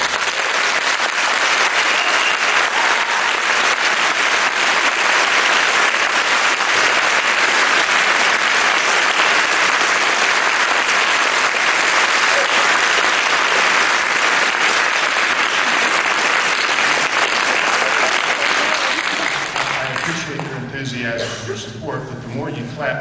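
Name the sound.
applause, audience clapping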